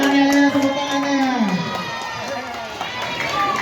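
A neighbourhood halal bihalal gathering crowd claps and cheers together, a lively burst of mixed voices and applause close by that fades down over a few seconds.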